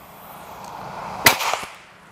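A single sharp shot from a Pasopati stainless PCP air rifle, a crisp crack followed by a brief rattle and fading echo over quiet outdoor background.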